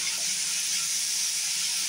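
Steady, bright sizzling of grated carrot frying in a hot pan for semolina pulao, continuous and close, with no talking.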